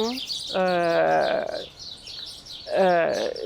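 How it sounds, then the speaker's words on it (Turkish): Clear bird chirps sound close by in two bursts of bright, warbling calls separated by a short pause. "Kuşlar geldi."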